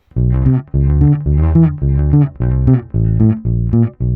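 Bass guitar playing a simple everyday pattern in a major scale, six or seven clean, loud sustained phrases in a steady rhythm with short gaps, close and alone with no voice.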